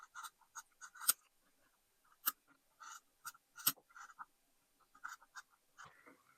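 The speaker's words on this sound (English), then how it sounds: "you can go ahead and cut out these notches" Scissors snip notches out of fabric pinned to a paper template for a square packing cube, making a series of close, crisp cuts in uneven bursts separated by short silences.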